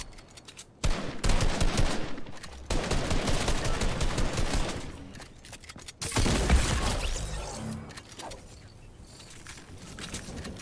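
Video game gunfire crackles in bursts of rapid shots with pauses between, loud and close, broken by short quiet gaps.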